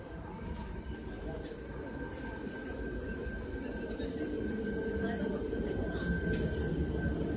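A train arriving in Český Brod rumbles steadily nearby with a constant low roar and a faint high whine, growing slightly louder throughout.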